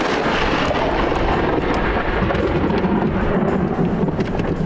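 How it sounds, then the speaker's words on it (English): Thunder from a close lightning strike booms as a loud, sustained low rumble that fills the whole clip, with a continuous noisy roar and no talk. "That is the closest I have ever been to a lightning strike."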